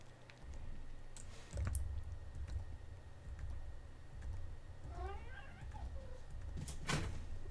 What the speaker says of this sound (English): It's my cat begging for affection